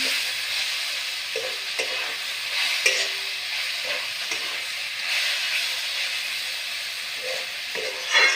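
Ginger-garlic paste fries in a pan, giving a steady close sizzle and hiss, with periodic soft scraping knocks as it is stirred to keep it from sticking. No one speaks.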